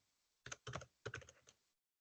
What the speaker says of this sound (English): you're going to have to all cope with my typing